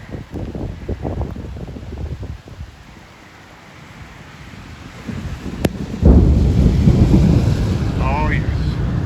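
Thunder from a thunderstorm in Bangor, Maine rumbles low and heavy amid wind buffeting the microphone. It fades to a quieter lull, then a sharp crack bursts into a louder, sustained roll near the end.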